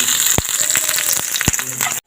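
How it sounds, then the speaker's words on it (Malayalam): Coconut pieces fry in a teaspoon of hot ghee in a pan, giving a steady close sizzle with a few sharp crackles and pops scattered through it. "കുറച്ച് നാളികേരക്കൊത്ത് വറുത്തെടുക്കാം."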